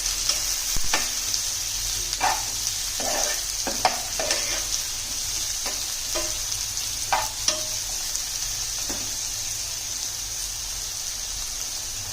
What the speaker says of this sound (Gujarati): લસણને ડાયરેક્ટ તેલમાં જ સાંતળવાનું